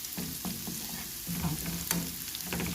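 Garlic sizzles steadily in a hot frying pan while being stirred, with scraping utensil strokes recurring every half second or so over a constant crackle, close and moderately loud, no talking.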